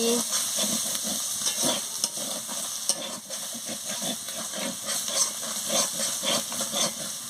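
Masala with turmeric and chilli powder being stirred and fried in a pan for a banana-blossom curry, a steady close sizzle with repeated scraping strokes of a spoon throughout.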